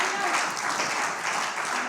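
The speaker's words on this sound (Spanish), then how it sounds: "Dele un aplauso al Rey con todo su corazón." A church congregation applauds in a dense, steady wash of clapping that continues for a couple of seconds, with a voice partly audible beneath it.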